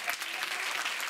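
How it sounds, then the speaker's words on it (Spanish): Applause from a crowd at a town gala honouring the festival king and queen, a steady wash of many hands clapping at moderate volume throughout. "ese aplauso para Rosana y Hugo"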